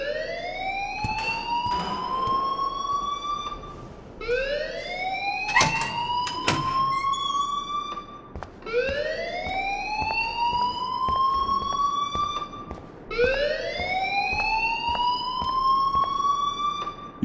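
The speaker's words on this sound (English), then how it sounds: "please turn off that alarm since that's your job" Alarm in the video game Life Is Strange wails in repeated rising siren sweeps, about four cycles, loud and continuous with brief clicks mixed in.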